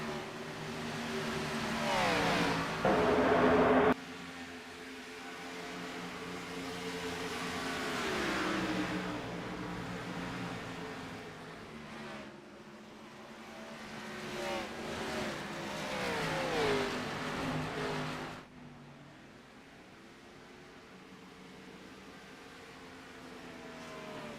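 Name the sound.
race cars driving, from a video game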